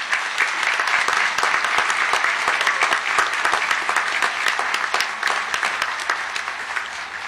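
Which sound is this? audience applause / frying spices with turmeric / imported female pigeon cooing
audience applause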